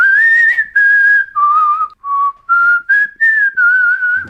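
Someone whistles a clear, loud melody of sustained notes with brief gaps, stepping up and down in pitch.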